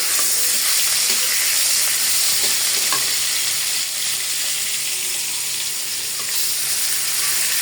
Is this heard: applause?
no